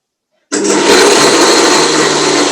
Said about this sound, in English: Use a high-speed blender of this to this, just because it kind of creams it up nicely.